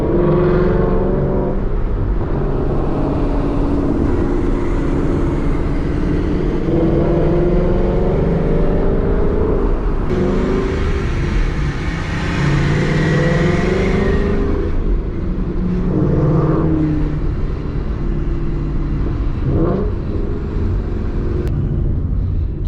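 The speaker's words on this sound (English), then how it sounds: "these cars don't even sound like regular Coyotes because they have such a deep, like, muscle car sound to them." Boosted Ford Mustangs with Coyote engines rev loudly nearby, deep rumbling drones rising and falling in pitch through several pulls, with supercharger whine layered over the engine noise.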